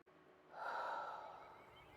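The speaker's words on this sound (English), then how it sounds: "Big, deep breath." One long, deep inhalation drawn in through the mouth, a soft breathy rush that swells and then slowly tapers, close and alone in a quiet room.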